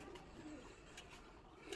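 Pigeons cooing softly at a distance in a bird shed, brief low repeated coos under faint background noise.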